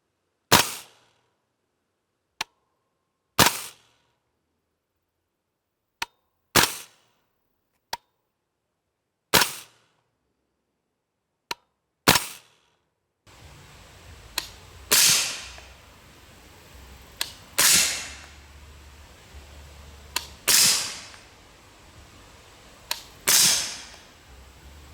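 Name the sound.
suppressed 300 Blackout rifle firing Winchester 200gr subsonic rounds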